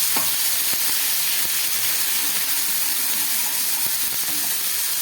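Ginger, chili, onion and garlic spices frying in a pan with a steady, close sizzle and hiss throughout, broken by a few sharp clicks and taps of utensils.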